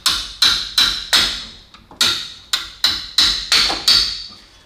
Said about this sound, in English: So I will carefully use the sledgehammer